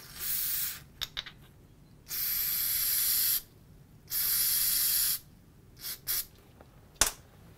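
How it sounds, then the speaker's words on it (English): Several bursts of carburetor cleaner spray hissing close by, three long sustained blasts and a few short puffs, with small clicks between, while cleaning the passages of an abandoned lawn mower's carburetor. "I'm just going to spray some carb cleaner through all the passages"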